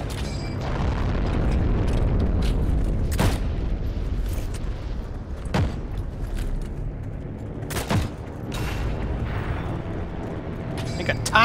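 Grenade explosions and gunfire in the World War II shooter game Heroes and Generals: a sustained loud rumble with several sharp broadband blasts at irregular intervals, dense and close throughout.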